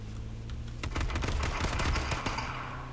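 Gunfire in H1Z1 Battle Royale, a quick volley of sharp shots cracking over about a second and a half, close and loud above a low steady hum.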